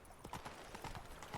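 Horse hooves clip-clop in the video game Witcher 3, a quick, regular trot of faint hoofbeats heard close in a short burst.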